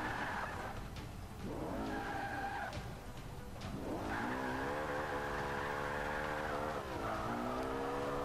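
A rear-wheel-drive race car in Forza Motorsport 5 spins out, with loud tire squeal and skidding over a continuous engine drone, the pitch swooping as the car rotates, then rising into a long sustained screech.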